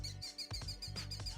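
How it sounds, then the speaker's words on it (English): A cockatoo in the Minecraft Between 2 Worlds modpack repeats a faint, high, whistling call several times in an even rhythm over a low, steady looping hum. "Cockatoo."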